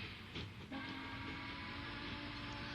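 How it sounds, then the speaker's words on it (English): A train in the Transport Fever video game rumbles steadily with a sustained tonal whine, preceded by a couple of brief clicks, quiet and continuous throughout. "Where's the other train at? It's right there. It's getting ready to leave."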